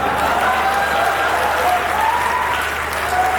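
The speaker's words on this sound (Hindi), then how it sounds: "आपकी तालियां सही जगह बजी।" Loud, sustained applause from the crowd at a Hindi comic poetry gathering, dense and continuous clapping with a faint tonal hum underneath, no voices over it.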